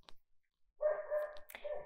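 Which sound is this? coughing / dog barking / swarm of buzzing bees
dog barking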